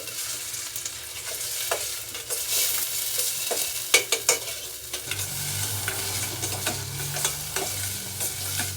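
Food frying in a pan for a basic soup, stirred until golden brown: a steady sizzle with scraping and clinking of the spoon against the pan, a few sharper knocks in the middle, and no talking.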